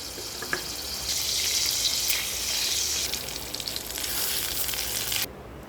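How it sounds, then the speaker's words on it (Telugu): Spices for tempering crackle in a ladle of oil and a spoon of ghee in a pan, giving a loud, hissing sizzle that swells and eases before cutting off abruptly near the end. "ఇప్పుడు అదే ప్యాన్ తీసుకొని అందులో ఒక గరిట ఆయిల్ వేసి 1 స్పూన్ నెయ్యి వేసి పోపు పెట్టుకోవాలి"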